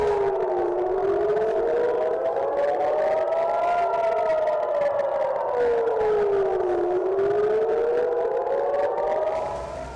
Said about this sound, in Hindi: सायरन की आवाजें सुनाई देने लगी थी